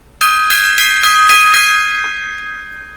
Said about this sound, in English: All right, gong time